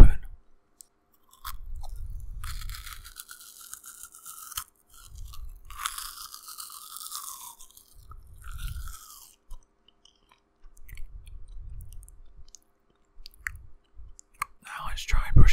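Close, crunchy chewing of cheese puffs with the mouth open, coming in repeated bursts separated by short pauses, with soft whispering in between.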